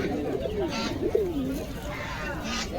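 Pigeons, including a red-breasted fancy breed, coo at a pigeon market in Beldanga, giving a few low rolling coos over a steady crowd murmur.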